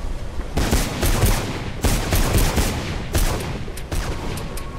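Heavy automatic gunfire in the video game Mirror's Edge, several long, dense bursts of rapid shots that nearly fill the clip, loud and close, with brief gaps between volleys.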